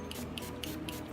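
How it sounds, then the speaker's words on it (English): Setting spray is misted onto a face in four short, evenly spaced hissing pumps, close and fairly soft over a quiet room background. "So that's not my final layer of setting spray."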